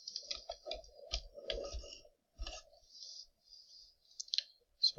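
A computer mouse clicks and keyboard keys tap during LED sign content editing, scattered light clicks and short typing bursts, close and quiet.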